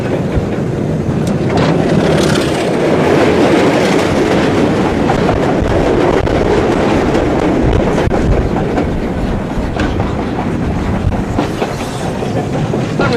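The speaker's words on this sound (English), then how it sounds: "it's pulling a goods train of mineral wagons" A heavy diesel locomotive pulling a freight train of mineral wagons roars past close by, wagons clattering continuously over the rails with occasional squeals, loud and steady throughout.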